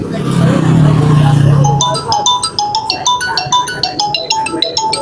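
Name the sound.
phone ringing with incoming customer call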